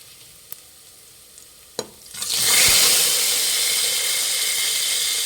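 Garlic dropped into hot oil for bele rasam bursts into a loud, steady sizzle after a couple of faint clinks, the frying hiss swelling quickly and holding close and continuous.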